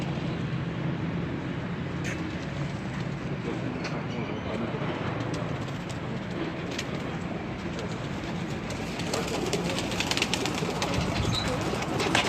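Pigeons coo in a continuous low murmur on a rooftop in Mandi Bahauddin, under people talking nearby, with occasional sharp knocks and flutters.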